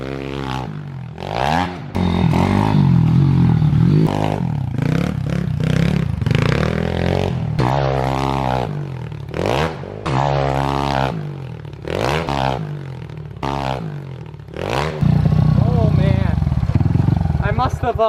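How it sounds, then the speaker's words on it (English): A pit bike engine revs in short, loud surges and cuts off between jumps on dirt ramps, heard close. A person talks over much of it. "I hit the brake by accident. The bike almost stalled in midair."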